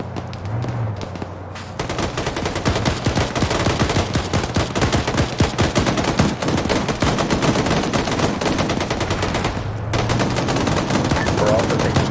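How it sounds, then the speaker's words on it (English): Sustained bursts of automatic gunfire and explosive RPG impacts in a military infantry video game, loud and dense, rattling almost without pause apart from brief gaps near the start and toward the end. "We are taking RPG fire at the T intersection."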